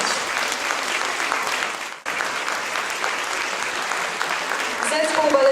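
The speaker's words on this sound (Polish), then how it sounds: "Teraz jest czas na brawa i oklaski." Concert audience applauding at the finale of a performance at a youth cultural centre in Kraków, a dense, steady wash of clapping that dips briefly midway, then swells again with a faint voice or tone near the end.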